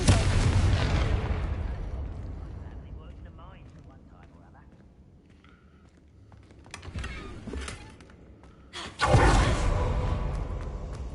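A Confringo spell explosion in Hogwarts Legacy opens with a loud booming blast that fades slowly, followed by smaller impacts and a second sudden loud burst of fiery noise.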